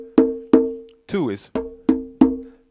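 Thin conga tones struck with a single finger, five sharp hits in a loose rhythm with quick decays, close and clear; a short spoken word breaks in between the strikes.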